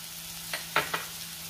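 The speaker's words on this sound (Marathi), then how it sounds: "खोबरं घालायचं आहे आणि खोबरंही व्यवस्थित परतून घ्यायचं आहे." Onion and grated coconut sauteed in a pan: a soft sizzle runs underneath while three quick scraping stirs stand out in close succession.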